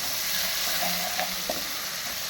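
Crushed garlic, fennel, ginger and green chilli frying in a pan, giving a steady, close hiss of sizzling oil with a couple of faint clinks.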